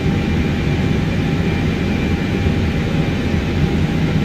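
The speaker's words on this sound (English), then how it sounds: "Winds from the left 18 knots. Aircraft is climbing." Aircraft engine climbing in Microsoft Flight Simulator 2024, a constant loud broadband roar with a steady tonal hum, unbroken throughout.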